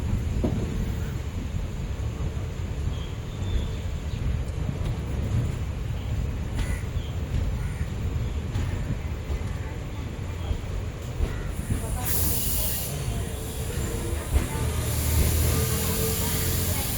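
An express train rolls into Mettupalayam railway station with a steady, loud rumble and rattle of carriages, followed near the end by a burst of hissing brakes as it slows.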